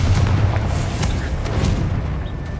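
The Confringo spell in the video game Hogwarts Legacy detonates as a deep, rumbling explosion that stays dense and sustained throughout, with scattered crackles above the boom.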